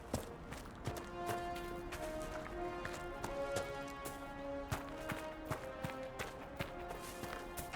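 Horse hooves clip-clop at a steady running rhythm in Dragon Age Inquisition, sharp regular hits carrying over faint tonal game music without talk.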